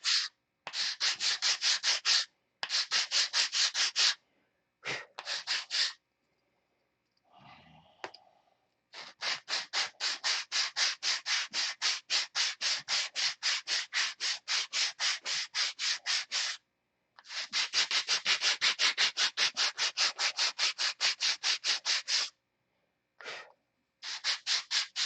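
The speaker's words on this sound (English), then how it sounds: "So we'll sand it straight." Rapid back-and-forth rasp of sandpaper shaping a Mega Tucker aircraft cowl, long steady runs of even strokes, close and loud, broken by a few short pauses.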